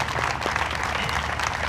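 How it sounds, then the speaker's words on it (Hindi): An audience gathered at a religious stage event claps in a dense, continuous burst of applause, steady and close, lasting under two seconds without any voices rising above it. "वापस ताली बजाइए"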